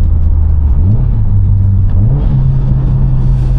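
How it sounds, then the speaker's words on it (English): A tuned 605 bhp 2014 Subaru WRX STI engine is pushed past its shift point, loud and close, its rising boxer drone stepping up in pitch through quick gear changes with no talk. "change into fifth, you know what I mean? Over rev it, because why not?"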